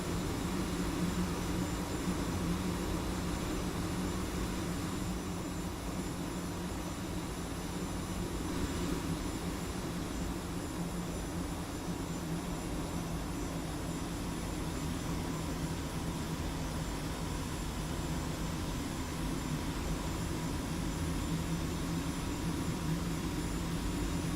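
F-86 jet engine in a flight video game, with air brakes deployed and engine speed under 90 percent: a steady, continuous broadband roar and whine, constant in level and alone throughout.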